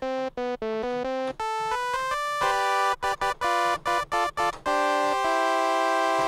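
A bright, buzzy Serum synth playing a single-cycle waveform taken from a toy noisemaker sample plays a choppy melodic line of short and sustained notes, some staccato, ending on a held tone.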